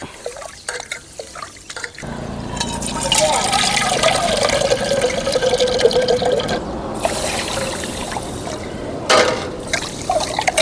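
Water is poured over fenugreek seeds to rinse them in a kitchen, a continuous splashing trickle lasting several seconds, with a voice speaking over it.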